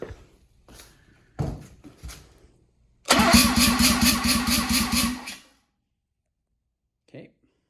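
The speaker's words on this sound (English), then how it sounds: "compression test of a 13B turbo. This is an S4 engine. I'm going to do the rear rotor first." A Mazda S4 RX-7 13B turbo rotary engine on an engine stand cranks for a rear-rotor compression test. After a few clicks and handling knocks, the starter churns it for about two seconds in a loud, steady, rhythmic pulse, then stops.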